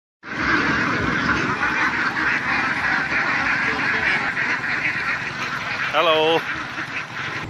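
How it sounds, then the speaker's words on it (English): A large flock of ducks on a rice farm in the Philippines quacks in a dense, continuous chorus nearby, with one person speaking briefly over the noise. "You can see behind me the duck army."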